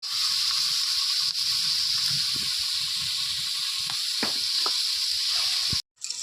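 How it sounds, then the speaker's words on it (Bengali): Fish frying in hot oil in a pan, a loud, steady close sizzle and hiss with a few faint clicks and knocks underneath, cutting off briefly near the end. "মাছগুলো সুন্দর করে লাল করে ভেজে নিন।"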